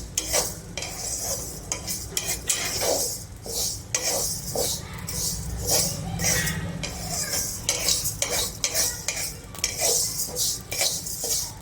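Flax seeds roast in a pan for mukhvas, stirred constantly with a metal spoon, producing rhythmic scraping and rattling strokes over a light dry sizzle, close and continuous without any talking.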